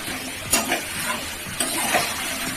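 Chicken biryani masala sautéing in a pan, a steady close sizzle with a few sharp stirring scrapes and clatters at intervals.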